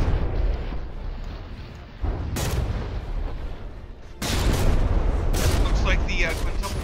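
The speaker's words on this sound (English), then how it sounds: "Oh, that's a big old volley of shells." Tank turrets in the video game From the Depths fire volleys of shells, heard as dense rumbling booms and crackling blasts that swell in waves, loud and continuous.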